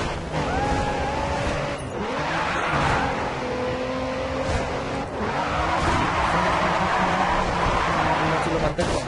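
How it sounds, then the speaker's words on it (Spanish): Race cars in the video game GRID 2 drift with the handbrake, giving constant engine drone and tire squeal through the stretch, with someone talking over the gameplay. "a mí sí me gusta derrapar los carros"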